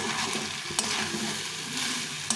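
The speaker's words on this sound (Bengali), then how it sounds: "এখন এই চালটা একটু ভেজে নিয়ে" Rice frying in a pan for khichuri, a steady close sizzle with scraping stir strokes and a couple of sharp clinks, no voices.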